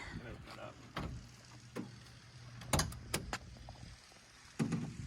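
The back door of a van is unlatched and swung open, giving a few sharp clicks and clunks of the latch and hinge spread across a quiet, faint background.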